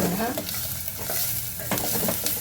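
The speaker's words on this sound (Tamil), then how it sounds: "வெங்காயம் தக்காளி நல்லா வணக்கிற மாதிரி பார்த்துக்கலாங்க" Onions and tomatoes sautéing in a pan for mudavattukal soup: a steady, close frying sizzle broken by the scrape and clatter of stirring, with no voices.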